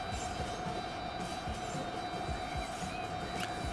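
An S-Bahn train rolls near a station in the railway building game Transport Fever, a steady low rumble of wheels with a constant electric hum running through it, moderately quiet and without talking.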